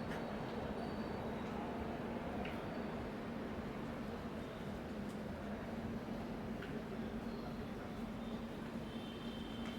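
Lokmanya Tilak train standing at a platform of Banaras railway station, a steady low rumble and hum of the idling train with broadband station noise throughout, moderately loud and continuous.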